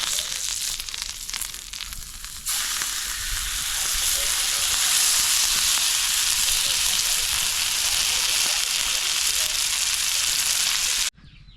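Marinated fish fries in oil in a pan, giving a loud, steady, crackling sizzle that swells after a few seconds and holds dense and close before cutting off abruptly near the end.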